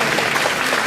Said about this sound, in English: a round of applause for my friend down there